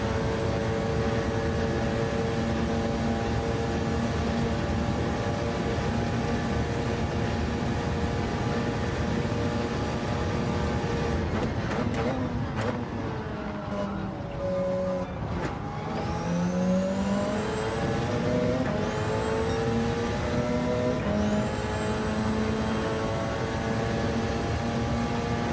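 A GT race car in Gran Turismo 7 screams past the start-finish line during a four-hour Le Mans endurance race, its steady high engine whine sweeping down in pitch as it passes, with another car's note following close behind.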